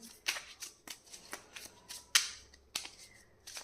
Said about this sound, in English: I don't know why cards are falling.